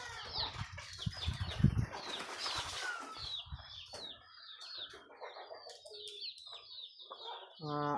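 Homing pigeons at a rural loft give soft cooing calls with a burst of wing flapping near the start, loud and close, followed by quieter bird sounds and faint chatter.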